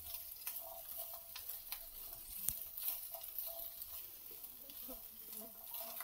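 Capsicum is stirred into Maggi rice in a pan, with soft sizzling under quiet scraping and a few light taps of a utensil against the pan; faint overall.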